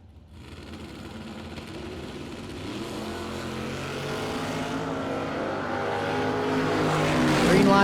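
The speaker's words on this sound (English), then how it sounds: "Pratt left side in the Pratt Racing Engines Camaro, dial 592." Drag racing Camaros, including a Pratt Racing Engines Camaro, rumble at the start line of a drag strip event, the engine roar swelling steadily louder and higher toward a loud, revving finish.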